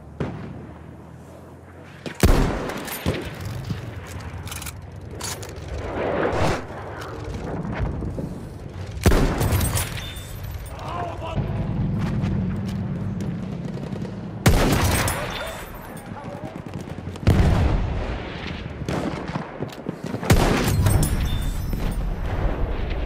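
Artillery battery fire booms through a Battlefield 1 battle in heavy, loud bursts spaced several seconds apart, with rumbling and scattered shots between them and occasional in-game voices.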